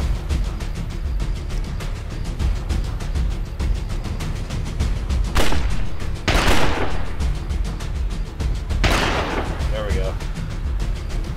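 Rapid gunfire from a video game rattles continuously, broken by several loud blasts, all close and dense throughout.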